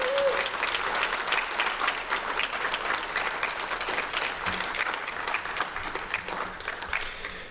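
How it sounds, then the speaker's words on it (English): Sustained, dense applause from an audience at a social justice think tank panel discussion, steady and fairly loud throughout, with no talking over it. "Let's give another round of applause to Ananias."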